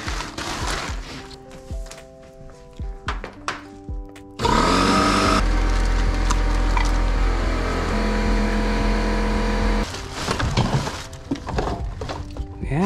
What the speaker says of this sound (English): let's get some air in the tank